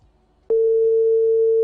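A telephone line tone sounds on a radio call-in show: after a short quiet stretch, a single steady, loud pitch begins and holds unbroken to the end.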